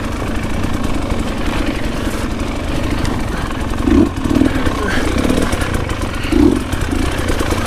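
Dirt bike engine running along a Pacific Northwest singletrack trail, a continuous mid-pitched drone with a few brief revving surges, heard close alongside wind and rattle.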